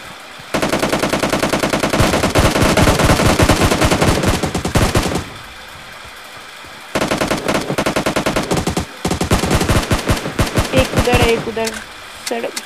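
Loud automatic gunfire from the battle royale game PUBG rattles in long rapid bursts, breaking off briefly around the middle before resuming in choppier volleys; no one speaks over it.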